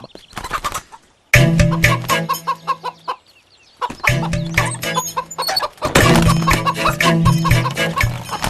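Chickens in a Malayalam film scene cluck loudly and close in repeated bursts of rapid, choppy calls, broken by a couple of short pauses.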